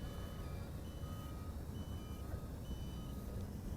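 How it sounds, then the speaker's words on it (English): Faint, high electronic beeps repeat at a regular pace, roughly once a second, over a low background hum: the low battery warning of an RC Eye Xtreme V2 Vantage brushless FPV sport drone. "So that beeping is probably telling me that we're running out of flight power."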